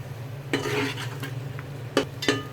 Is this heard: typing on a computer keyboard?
no